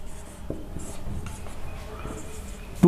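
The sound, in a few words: writing accounting entries on a board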